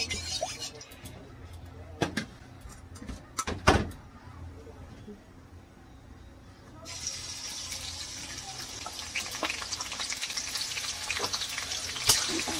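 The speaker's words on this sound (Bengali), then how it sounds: "তেলের মধ্যে অল্প ঘি দিয়ে দিব, বেরেস্তাটা করব" Onions frying for beresta in soybean oil with a little ghee: steady sizzle under a few sharp clatters, the hiss growing louder and brighter partway through as the frying intensifies, continuing to the end with no talk.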